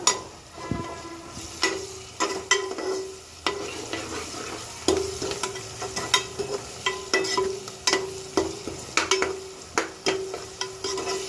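Liver pieces frying in a pan for a liver fry, a continuous sizzle punctuated by frequent metallic clinks and scrapes of a spoon stirring against the pan, close and without speech.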